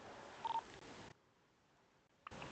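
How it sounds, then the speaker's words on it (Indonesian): Phone dialing tones in a GTA roleplay video game, a short keypad beep sequence followed by a quiet gap before faint sound returns. "Gue telepon dok dulu deh"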